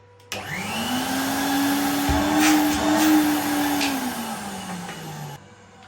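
A Numatic Henry HVC200 vacuum cleaner switches on, its motor whining up to a steady hum, running for several seconds before winding down and shutting off.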